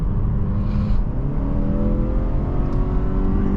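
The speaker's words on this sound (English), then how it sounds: "It sounds like the engine's doing a lot of work" A 2024 Mazda 3 GT AWD engine hums under load, its pitch rising and climbing steadily as it revs, heard from inside the vehicle with no talking.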